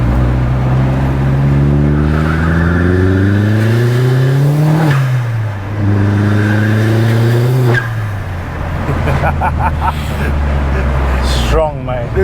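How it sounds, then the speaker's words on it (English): A turbocharged car pulls hard in second gear, its engine climbing in pitch over a few seconds, dropping at the shift, then rising again, with turbo whoosh and people talking over the loud cabin noise. "we'll do a little second gear pull from here"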